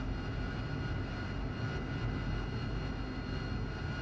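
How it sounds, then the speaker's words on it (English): In a DCS or War Thunder flight simulator, an aircraft engine drones steadily as the plane taxis toward the runway, a constant, even roar with no breaks, and no one talks over it. "Just taxiing towards the runway"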